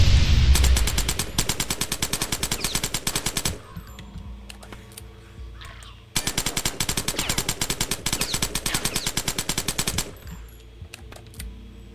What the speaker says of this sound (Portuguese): Vou atirar.